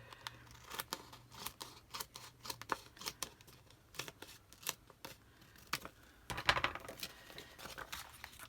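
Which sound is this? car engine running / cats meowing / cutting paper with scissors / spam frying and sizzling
cutting paper with scissors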